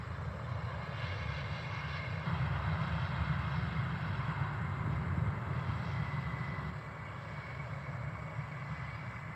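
A jet airliner departs Glasgow airport, its engine roar a broad, sustained rumble at middling distance that swells slightly midway and then eases, with no voices.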